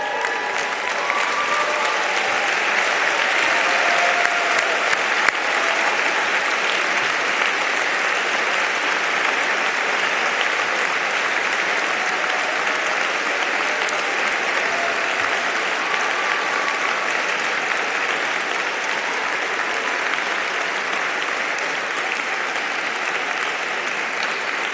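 At the 2018 Notre Dame Graduate School commencement ceremony, standing graduates give their families and friends a long, steady, loud round of applause. The clapping is thick and continuous, with faint crowd murmur underneath.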